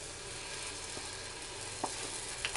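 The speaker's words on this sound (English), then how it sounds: "I've got a hot pan here. I'm going to add some garlic paste, probably a 1/2 tablespoon." Half a tablespoon of garlic paste sizzles in a hot pan, a faint, even hiss with a couple of small pops from stirring.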